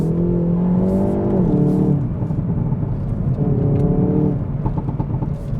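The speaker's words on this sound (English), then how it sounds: "you get 20 seconds of extra engine power, but also extra performance from the dual clutch" A 2022 Hyundai i30 N with dual-clutch gearbox accelerates hard in N Grin Shift mode, its engine note climbing loudly through two rising sweeps with a quick shift between them, heard close and alone without talk.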